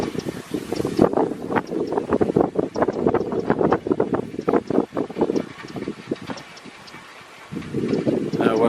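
Strong gusty wind buffets the microphone outdoors beside a small turbine, coming in loud rumbling bursts that ease briefly before picking up again.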